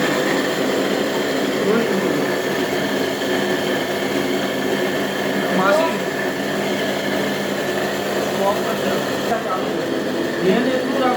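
A Bhavani home flour mill (gharghanti) runs indoors with a loud, steady mechanical whir and constant grinding drone, and a person speaks over the noise.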